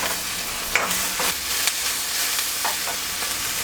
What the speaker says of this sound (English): Add my snow peas now.